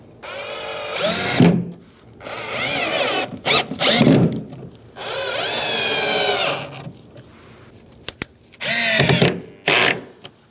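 Cordless power driver running Phillips head screws into a 2007-2015 Mazda CX-9 door while refitting the speaker, several short close whirring bursts with pauses between, ending in quick trigger pulses.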